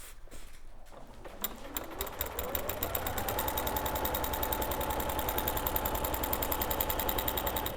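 A sewing machine with a walking foot quilting lines through layered fleece, starting with a few uneven stitches and then running in a fast, steady mechanical chatter, close and loud.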